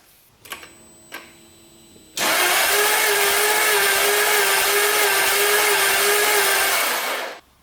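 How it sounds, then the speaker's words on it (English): The starter cranks a Jaguar S-type V8 with the throttle held wide open during a compression test on cylinder five. After a couple of faint clicks comes a steady, loud, even whirring drone lasting about five seconds, then it stops abruptly. "I'm going to start cranking over for cylinder 5"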